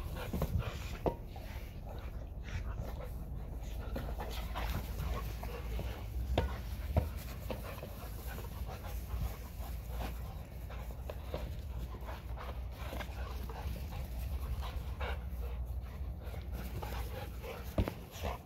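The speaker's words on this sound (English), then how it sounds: "we have all three dogs out here." Three dogs are out in the open, with soft panting, faint whimpers and occasional footsteps over steady background noise. No one speaks.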